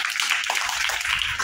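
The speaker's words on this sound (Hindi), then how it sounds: "तालियां मारिए इनके लिए" Dense, continuous applause from a classroom audience during an English-teaching activity, steady and fairly loud throughout with no clear gaps.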